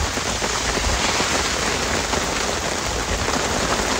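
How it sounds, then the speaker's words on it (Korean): Rain falls steadily on the surfaces around a solo car camping setup, a dense, even hiss of drops that stays loud and constant throughout without any voices. "비가 더 오거든요?"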